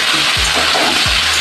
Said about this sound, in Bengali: এবার ফুলগুলোর সঙ্গে খুব ভালো করে আলু ফুল ভেজে নেব